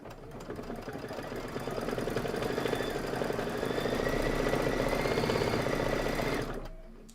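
A computerized embroidery sewing machine stitches the word flower in a steady, rapid mechanical chatter that holds at an even level for about six seconds and then winds down to a stop.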